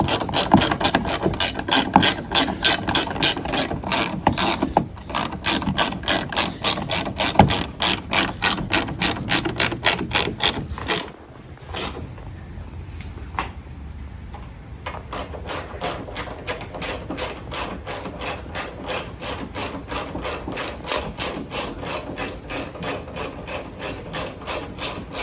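Rapid ratchet clicking tightens the factory bolts on a Ford F150 tailgate, a steady dense run of pawl clicks that stops briefly near the middle, then resumes at a slightly softer level.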